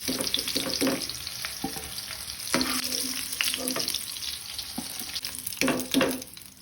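Rava-coated oysters fry in a pan with a continuous hiss and sizzle, broken by occasional clinks and scraping stir sounds, heard up close and with no talking.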